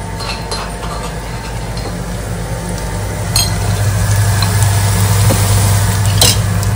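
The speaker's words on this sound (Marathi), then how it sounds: "त्याच्यात आता मी टाकते आपलं काय म्हणतात लसूण आलं आणि हिरवी मिरचीची पेस्ट. ती पण मस्त फ्राय करून घ्यायची छान." Garlic, ginger and green chili paste frying in a pan over softened onions, a steady close sizzle with occasional stirring clinks, growing slightly louder midway.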